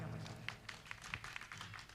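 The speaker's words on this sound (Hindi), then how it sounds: "हमारे सौदर मिंद्र के लिए तालियां बजाओ" A crowd at a Jain Panch Kalyanak ceremony in Modar, Dungarpur, claps in a faint, distant, steady patter for a couple of seconds, with a voice murmuring low.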